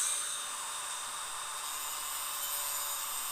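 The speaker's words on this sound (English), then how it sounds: "we're just going to take a Dremel with a little grinding bit and we're going to grind these down" A Dremel rotary tool with a small grinding bit grinds down a fishing rod guide foot, giving a steady, high-pitched whine that holds unchanged throughout.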